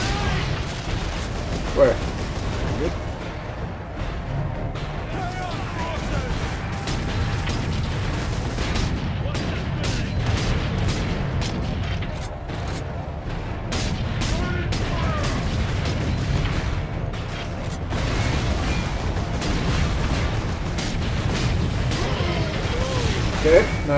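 Gunfire from Warhammer 40,000: Space Marine, a run of sharp bursts scattered through the whole stretch over a dense, rumbling combat background, with a voice talking over it.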